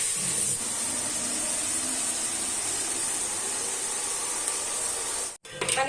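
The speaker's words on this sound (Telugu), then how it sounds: "మనకి ఆనియన్ అనేది మంచిగా ఫ్రై అవ్వాలి." Onions and green chillies frying in hot oil give a steady, even sizzling hiss that runs throughout and cuts out briefly near the end.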